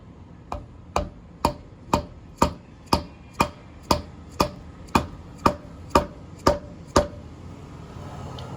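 Rear wheel bearing of a Yamaha RD400 being driven in with a socket: fourteen sharp, evenly spaced hammer blows about half a second apart, close and alone, then quiet.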